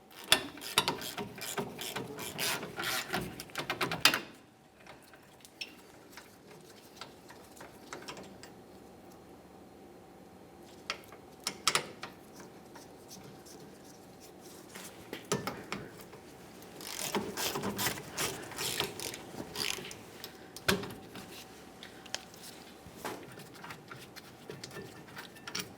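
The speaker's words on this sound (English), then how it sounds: "remove our 2 18mm headed bolts that hold the caliper bracket in place" Ratchet loosening the two 18mm caliper bracket bolts on a 1999-2006 Chevrolet Silverado 1500, bursts of rapid close clicking separated by quieter pauses and isolated metallic clacks, with no voices.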